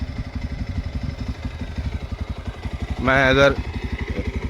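A 2026 Bajaj Pulsar 125 motorcycle engine idles with a steady, rapid low putter throughout, briefly overlaid by a short burst of voice near the end.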